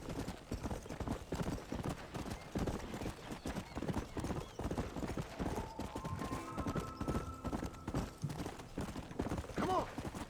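Horse hooves clip-clop steadily at a ride in the Western game Red Dead Redemption, a brisk rhythmic patter carrying on throughout, with a few whinnies and some game sounds layered over it.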